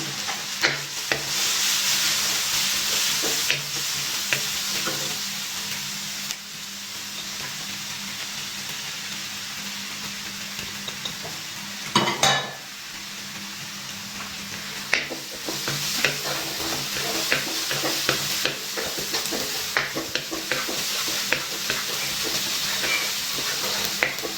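Chopped garlic, added along with ginger, fries in a pan for a crab roast, giving a continuous close sizzle broken by frequent scraping stirs and a louder clatter midway.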